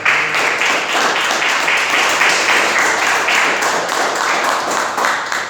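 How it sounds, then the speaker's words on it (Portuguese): Church congregation applauding loudly and steadily during a Pentecostal-style worship service, dense continuous clapping filling the room for several seconds with no break. "Você aplauda Jesus bem forte."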